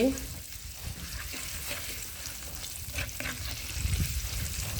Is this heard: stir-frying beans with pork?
yes